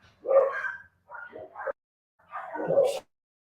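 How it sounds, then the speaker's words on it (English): Dogs bark and yip in three short bursts, the last a higher whimpering yelp, moderately close against otherwise quiet surroundings as someone arrives home. "it's the dogs letting us know the husband's home"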